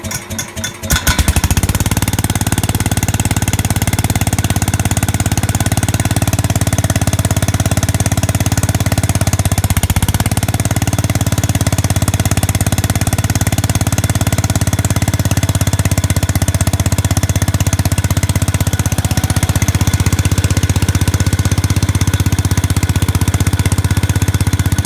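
An engine cranks and catches, then settles into a loud, steady, slightly uneven idle through a new muffler, rumbling continuously close by with no talk.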